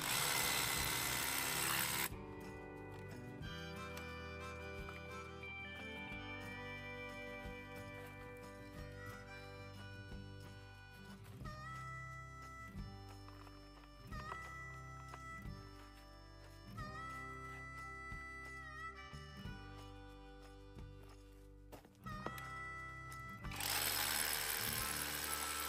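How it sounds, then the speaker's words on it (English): A hammer drill fitted with a masonry bit grinds into rock while prospecting for gold and copper at Copper Hill near Dayton, Nevada, giving a steady, faint, whining mechanical drone that runs for about twenty-five seconds. "I can grind up the material with my masonry bit"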